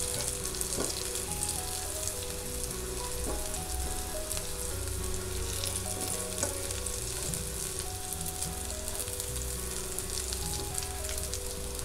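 Pea cutlets shallow-fry in a pan, giving a steady, dense sizzle and crackle of hot oil that holds without a break, close and fairly loud, with no voices.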